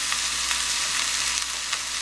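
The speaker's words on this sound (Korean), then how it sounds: "그러면 이제 불 꺼도 이게 한참 지글지글거리거든요." Bibimbap with gochujang and sesame or perilla oil sizzles in a hot earthenware pot, a loud, close, steady crackle that holds without pause.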